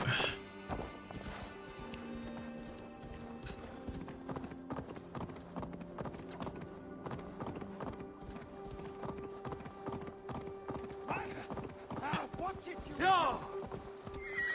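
Horse hooves clip-clop in a steady walking rhythm in the video game Assassin's Creed Valhalla, a horse whinnies loudly near the end, and a voice talks over it.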